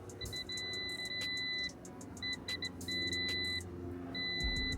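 Short electronic multimeter continuity beeps at a steady high pitch sound several times, some sustained and some brief, over a low background hum.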